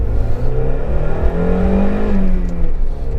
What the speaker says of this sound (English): We'll do a little acceleration here.